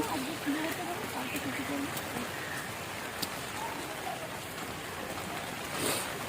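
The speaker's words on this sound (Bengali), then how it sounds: "এখানে প্রচন্ড বৃষ্টি হচ্ছে" Heavy rain pours down at Bakreshwar in Birbhum, a steady broadband hiss lasting throughout with no clear individual drops, while a voice may be faintly present underneath.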